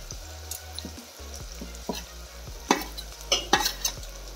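Coconut and garlic sizzle softly in a frying pan with curry leaves while a spoon stirs, scraping and tapping the pan in irregular strokes over a low steady hum.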